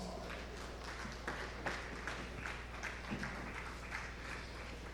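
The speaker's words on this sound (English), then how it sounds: "Please give them a round of applause." Audience applause for a delegation led by a king at a Diaspora Day celebration, a steady crowd of clapping hands sustained throughout at moderate loudness.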